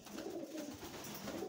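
A breeding pigeon coos softly and low in a loft, a brief murmuring call against steady background noise.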